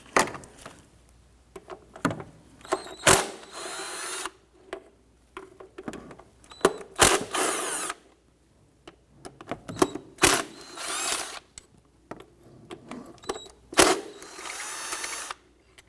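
A power tool backing out throttle body bolts on a 2017-2020 Hyundai Elantra 2.0L four-cylinder, heard as several short, loud whirring bursts close by with sharp clicks and quiet gaps between them.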